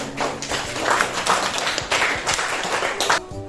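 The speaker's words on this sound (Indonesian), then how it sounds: "tepuk tangan." A class of students claps after test scores are announced in a school lesson, a close, uneven patter of hands with some louder taps, lasting a few seconds and stopping abruptly.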